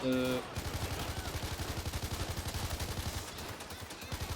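Rapid machine gun fire in a video game, a long fast burst of evenly spaced shots after a brief tone at the start, steady and moderately loud.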